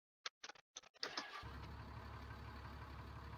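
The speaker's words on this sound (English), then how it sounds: "It's got that nice diesel sound startup" A Dodge Ram diesel pickup in Farming Simulator 19 cranks with a few quick clicks, then fires up and settles into a steady, low diesel idle, heard alone.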